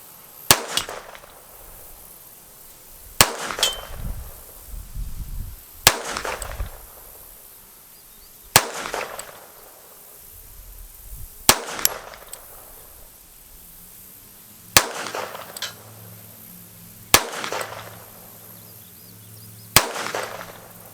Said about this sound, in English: let's go and try some of those PMC bronze rounds on another part of this particular target. And I'll shoot from the side